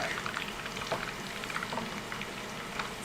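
Chicken pieces fry in hot oil, a dense, continuous crackle and sizzle with scattered pops, steady and close with no talking.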